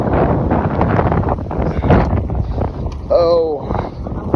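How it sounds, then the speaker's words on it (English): High winds outdoors buffet the microphone with a loud, constant low rumble amid fallen trees. People talk over the wind throughout. "I'm trying to get out of the wind so that I can video and they can hear it."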